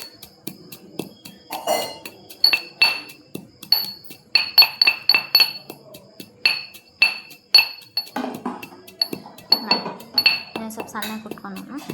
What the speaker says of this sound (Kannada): ಮೆಂತ್ಯಕಾಳು, ಜೀರಿಗೆ ಮತ್ತು ಸಾಸಿವೆ ಹುರ್ಕೊಂಡಿದ್ದೆಲ್ಲ ಇದನ್ನು ಕುಟಾಣಿಯಿಂದ ಕುಟ್ಕೊತೀನಿ